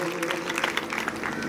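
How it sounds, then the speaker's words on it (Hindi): An audience at a Vishnu yajna religious gathering applauds loudly and continuously, a dense wash of clapping that fills the whole moment, with a voice faintly mixed in. "जोरदार तालियां अपने लिए और श्री शास्त्री जी के लिए"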